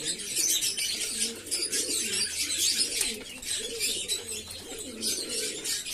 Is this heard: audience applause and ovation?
no